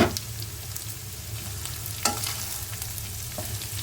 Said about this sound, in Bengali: মাছটা যখন হালকা ভাজা হয়ে এসছে এর মধ্যে পেঁয়াজ অ্যাড করে দেব